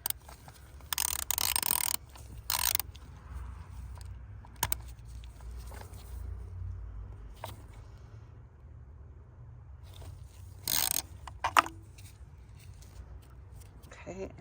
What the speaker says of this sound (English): use the socket wrench to go ahead and tighten it down. Again, a 10mm socket will work great.